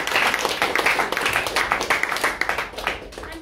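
A Toastmasters club meeting audience gives a steady round of applause, dense overlapping claps sustained for a few seconds at a fairly close, lively level before tapering slightly.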